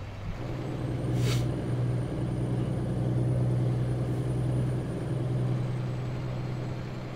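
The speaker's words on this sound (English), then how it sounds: "the J-brake is super loud, but inside the truck, not outside" In a trucking simulator game, a truck's engine brake rumbles as a steady low drone for several seconds, with a brief hiss partway through, heard from outside the cab without talk.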